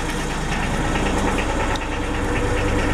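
A 30-year-old diesel generator engine running steadily after startup, a loud continuous chugging idle with a rough knocking rhythm and vibration throughout, no talk.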